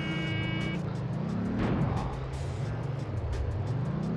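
A black sports car in the racing game Driver 2 drives with a steady, continuous engine drone and shifting pitch, rising briefly around mid-clip, loud and alone without talk.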